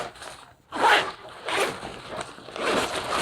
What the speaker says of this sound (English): you do have the option to unzip this compartment here, which goes all the way around